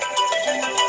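A phone ringtone plays loud and close, a repeating electronic melody with bright tonal notes that fills the whole second on its own.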